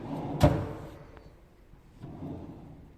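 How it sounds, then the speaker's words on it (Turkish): Wooden desk drawer on double-extension tandem runners in a solid-wood work desk with walnut finish, giving one short, sharp knock near the start, then fainter sliding and a soft bump later; no talking. "çekmece rayı kullanarak üretmiş olduğumuz çekmeceler var"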